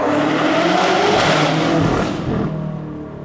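A BMW M8 Competition with a Karpovich catback exhaust in Sport Plus mode revs hard with a loud, brutal roar, then eases off and fades toward the end.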